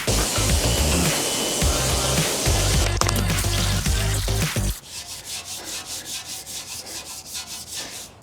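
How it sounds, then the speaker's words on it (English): Wheels on a car are scrubbed during detailing, with a steady, loud rubbing brush sound close up that cuts to a quieter, rhythmic scrubbing partway through. "you can watch me clean the rest of the wheels"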